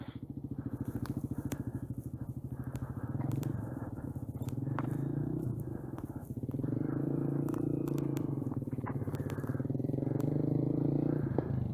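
A motorcycle engine runs steadily nearby, its low throbbing note shifting and rising a little in pitch as the bike pulls away in first gear.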